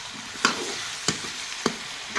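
Tomatoes fry in a pan with potato and eggplant, sending out a steady, fairly loud sizzle broken by three sharp clinks of a stirring spoon against the pan.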